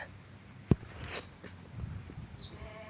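Newborn twin goat kids on a farm, struggling to nurse from their mother, let out faint, brief bleats amid quiet rustling and a sharp knock, sounding close but soft.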